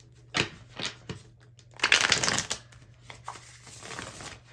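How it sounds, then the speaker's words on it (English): A tarot deck is shuffled up close: crisp papery riffles and taps come in short bursts, with one louder flurry in the middle and no talk. "Let's give her one more good shuffle."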